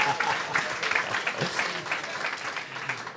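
Audience applause and cheering for two guests at an SAP corporate show, many employees clapping steadily and loudly throughout, a dense, sustained crowd noise with scattered louder cheers.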